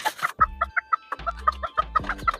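A bantam hen on a backyard farm clucks in a quick, uneven series of short, close notes, with a brief burst of rustling at the start.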